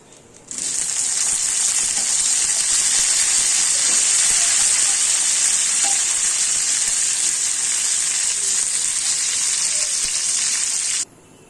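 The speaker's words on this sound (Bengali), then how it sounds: "এবার ফুলকপিটাও ভেজে নেব।" Cauliflower frying in hot ghee in a pan gives a steady, loud, bright sizzle that starts abruptly, holds evenly for about ten seconds and then cuts off, with no talking.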